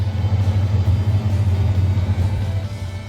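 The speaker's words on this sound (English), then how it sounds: "Listen how loud this fuel pump is." Loud fuel pump running in a turbocharged K24-swapped Honda Civic EK coupe, a steady pulsing low drone with rumble throughout, close and alone without talk.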